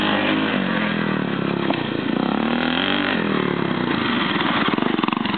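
Flat track motorcycles race in a heat at Hillyard, a loud continuous engine roar with rising and falling revs as the bikes pass close, filling the whole clip without talk.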